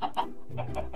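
Chickens clucking in a village yard, a few short bursts of hen calls close by over a low steady background hum.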